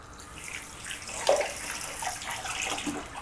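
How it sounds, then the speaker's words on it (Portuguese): Water trickles and splashes briefly as a little is poured into mashed potato in a kitchen, a soft close pour with a small splash in the middle and no talking. "Vou colocar um pouquinho mais de água só."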